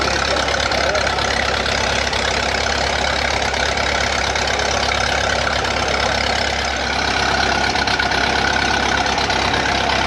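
A steady, low engine idle from a 1913 Buick antique racing car runs close by without pause, a constant rumble with no revving or voices.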